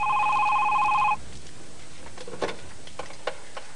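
An indoor telephone rings with a steady, bright electronic trill for about a second in a scene from an old PTV drama, then cuts off, leaving near silence with a few faint clicks and light movement.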